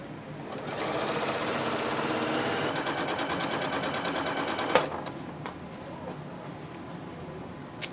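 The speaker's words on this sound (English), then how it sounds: "I am going to start sewing." Sewing machine stitching binding onto a quilt, a steady close-up run of rapid mechanical stitching that stops near the middle, followed by a sharp click and quieter handling noises.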